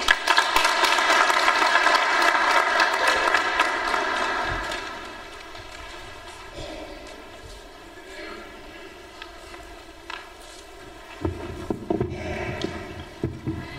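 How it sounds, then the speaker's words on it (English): Audience applause for a Vice Chancellor at a university research week opening address, a broad sustained clatter of clapping from the start that fades after about four seconds, with a murmur and a few scattered claps returning near the end. "Another round of applause for the Vice Chancellor"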